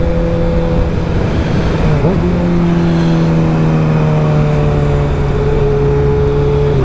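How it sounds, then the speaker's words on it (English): Kawasaki Ninja ZX-6R motorcycle engine running loud and close, with a quick rev blip early on, then settling into a steady, slightly falling idle-like drone. "Just start up and kind of rev it just a little bit."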